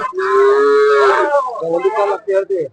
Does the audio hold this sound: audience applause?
no